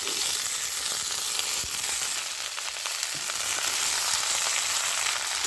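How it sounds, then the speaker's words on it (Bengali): Flat beans and eggplant fry in a pan with potatoes for a vegetarian drumstick-flower chorchori, a steady, dense sizzle with occasional stirring scrapes, close and continuous without talk. "সিম আর বেগুনটা ভালো করে ভেজে নিতে হবে।"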